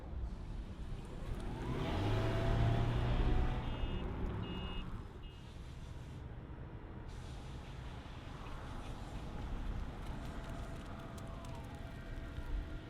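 A 2025 Toyota Crown XLE sedan starting up and rolling: a steady low engine and road drone runs throughout, louder and rougher for the first few seconds before easing into an even hum, with a few faint high beeps.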